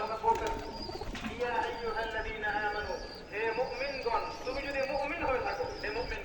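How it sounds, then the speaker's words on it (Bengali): A pigeon feeding its chick, giving soft repeated coos and low bird calls close by over a constant noisy background, with a voice talking at intervals. "এই যে কবুতর বাচ্চাকে খাওয়াচ্ছে"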